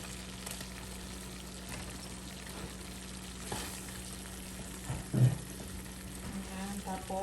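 Shrimp dropped into a pan of melted butter for seafood spaghetti, with a steady low sizzle that jumps briefly as they hit the fat, plus a few stirring clinks nearby.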